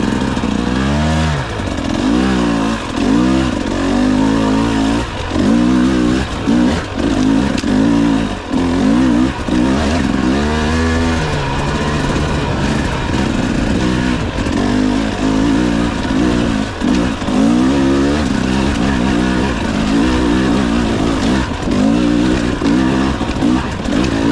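A KTM 300 TBI two-stroke dirt bike rides a trail mostly in second gear, its engine revving loudly and close in rapid repeated bursts of acceleration and backing off, with no talking.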